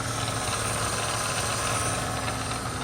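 A VW Passat 16V water pump heard through a screwdriver pressed against it, giving a constant close mechanical hum and whir with faint vibration, steady and alone.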